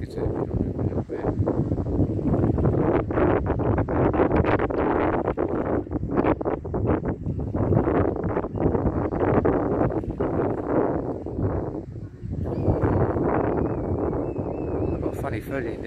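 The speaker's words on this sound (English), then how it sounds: "it's so windy this bit" Loud, steady wind buffeting the microphone outdoors by a river, a constant low roar with gusty rumble throughout.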